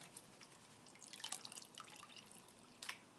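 Water wetting a dark, blackened material, with soft scattered drips and trickling over a steady low hiss, close and quiet, ending in a small splash burst and with no talking.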